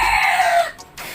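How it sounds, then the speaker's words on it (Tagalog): A rooster crows once in a short, bright, strained call that trails off, heard at moderate distance with little else around it. "walang tigil na naman itong mga manok na to"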